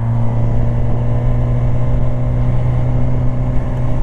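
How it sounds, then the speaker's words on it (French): A motorcycle rides along and overtakes cars, its engine holding a steady, close droning hum with constant road and wind rumble underneath and no voices. "t'as une moto qui te permet de faire ce genre de truc, tu vois, hop là, tac, tu dépasses les voitures comme ça"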